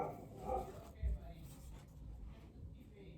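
A dog barks and whimpers indoors at a skunk shown on a television, with short yips scattered under ongoing conversation from people in the room.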